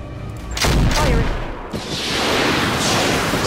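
Gunfire in the tactical video game Roguepoint as an enemy is shot, a loud close burst of booming shots followed by a rolling, decaying rumble and sustained noisy wash.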